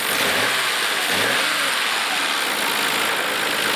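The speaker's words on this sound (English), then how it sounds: "engine that makes a noisier sound on my camera than any other engine" A 1989 Nissan Skyline GT-R engine with individual throttle bodies blips and revs twice in quick succession, then settles into a steady, loud idle rumble.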